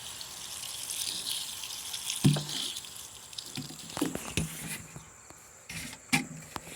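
Garden plants are watered with a watering can, a light patter and trickle of water splashing onto leaves and soil in uneven bursts.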